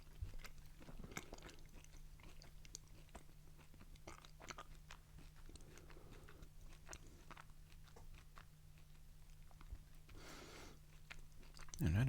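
Close, crunchy chewing of a peanut butter gas station energy bar, with steady bites and mastication over a low hum that continue throughout and grow louder at the very end.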